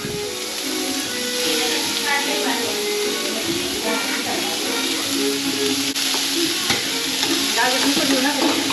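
Mushrooms cooking in butter with garlic and onion sizzle loudly and continuously in a pan, with stirring scrapes and faint voices talking underneath.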